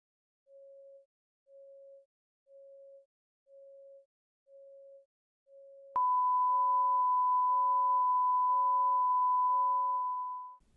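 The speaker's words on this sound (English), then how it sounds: "Let's try a 1000 Hertz background noise." A 550 Hz test tone beeps in steady, evenly spaced pulses, then a continuous 1000 Hz masking tone switches on abruptly and holds loud beneath the remaining beeps before fading out.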